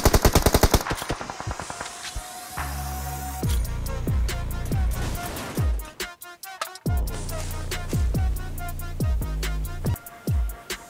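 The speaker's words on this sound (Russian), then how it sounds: "по ним вроде стреляют, бро" Rapid automatic gunfire from PUBG Mobile rings out in loud, sharp bursts, with a continuous stream of shots interrupted by short pauses and some heavier booming reports, no voices over it.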